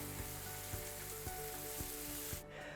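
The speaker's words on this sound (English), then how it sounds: "So we're gonna fry them in olive oil." Halloumi fries in a little olive oil in a pan, a steady close sizzle with soft regular taps of a utensil about every half second, the hiss cutting off sharply near the end.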